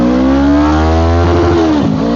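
A Suzuki Inazuma 250 motorcycle revs hard in first gear, its engine note loud and close, climbing steadily in pitch and then dipping sharply near the end as the throttle eases.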